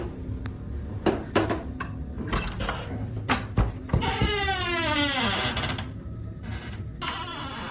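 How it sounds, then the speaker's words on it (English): An attic door in an old property opens with a few knocks and clicks, then a drawn-out, rising and falling hinge creak, close and clear in an otherwise quiet room. "but they open the attic door all the same."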